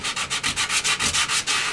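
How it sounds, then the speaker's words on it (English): Close, rhythmic hand sanding on the edges of maple kitchen cabinets: about eight quick back-and-forth rasping strokes in a steady scratchy pattern. "So these guys have been taking a lot of little hand sanding right like that"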